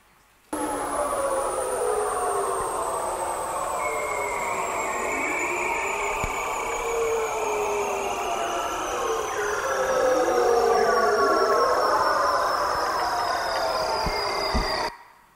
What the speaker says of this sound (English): It's the mating call of a bearded seal from the Arctic.